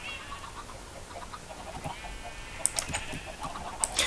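Chickens clucking in the Minecraft video game, a few short, sharp clucks and squawks scattered over a quiet low background, fairly close, with no speech.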